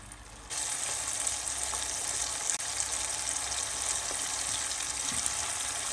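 Onions fry in a karahi for quail karahi, giving a dense, loud, continuous sizzle that swells to full intensity after a quieter start and holds steady. No voices are present.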